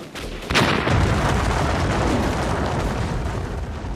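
A loud explosion in a war film erupts suddenly and holds as a broad, sustained roar with rumbling debris that stays dense and heavy for several seconds.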